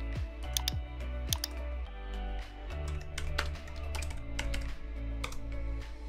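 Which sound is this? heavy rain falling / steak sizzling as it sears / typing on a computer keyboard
typing on a computer keyboard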